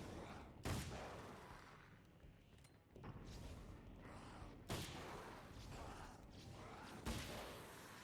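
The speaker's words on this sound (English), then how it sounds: "So I can shoot some of them." Gunfire in Alan Wake's American Nightmare comes as three sharp shots, widely spaced and somewhat distant. Between them runs a rumbling, creaking game soundscape as enemies are shot at.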